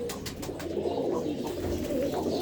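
A loft of roughly a hundred dabba pigeons, some black, blue and red, coos continuously at close range, soft overlapping throaty calls forming an unbroken murmur with no talk.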